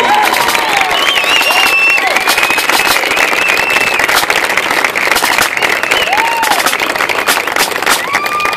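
Loud, sustained audience applause after a U.S. Border Patrol Pipes and Drums performance, dense clapping with whistles and cheers running unbroken from start to finish.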